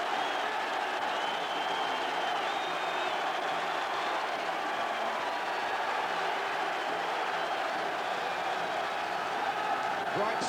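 Everton supporters fill Villa Park on a sunny FA Cup semi-final day, a steady roar of crowd cheering and applause from a large capacity crowd carrying unbroken across the whole stretch, with a commentator's voice over it.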